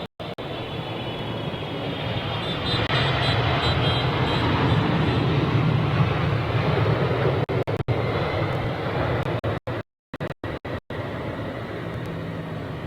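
An Air India jet airliner arriving on runway 27R at Heathrow, a steady broad engine roar that swells and holds for several seconds, heard from a distance outdoors before a few brief dropouts near the end.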